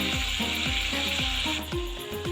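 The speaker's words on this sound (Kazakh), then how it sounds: "Жақсылап қуырамыз." Sliced onions with red and green sweet peppers sizzle steadily in a hot pan for a potato soup, a close continuous hiss broken by regular scraping stirs.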